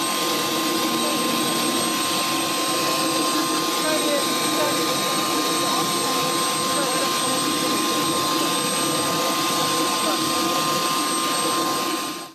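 Helicopter at a nighttime military funeral ceremony, a steady broadband rotor and turbine roar holding constant throughout, loud and close, with faint crowd noise beneath.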